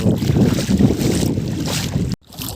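Strong wind gusting over an open farm field, a loud steady rush with buffeting against the microphone that cuts off abruptly near the end.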